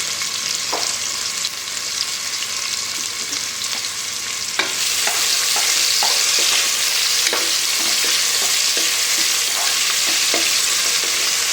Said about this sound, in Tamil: வெங்காயம் நல்லா வதங்கும் போதே நம்ம இந்த பச்சை மிளகாய் சேர்த்து வேண்டியதான்.